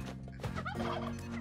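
Turkeys gobble loudly in the Spelunky 2 video game, rapid warbling calls repeating over dense game music and effects, with no talking.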